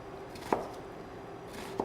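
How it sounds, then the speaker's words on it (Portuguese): Two sharp knife strikes on a cutting board while chopping onion for a Portuguese cabidela chicken stew, faint and spaced apart over low kitchen background noise. "vamos então picar a cebola"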